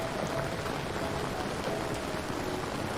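Soft rain at night in the Amazon rainforest, a constant, even wash of dense broadband patter with no distinct drops or pauses, fairly loud and heard alone.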